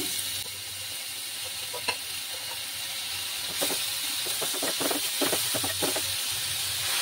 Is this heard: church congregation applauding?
no